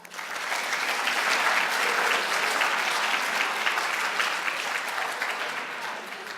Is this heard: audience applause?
yes